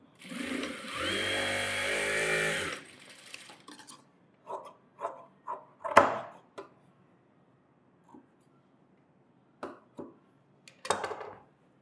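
A sewing machine stitches a net blouse in one close whirring burst of about three seconds, then stops, followed by scattered quiet taps and clicks of handling the fabric.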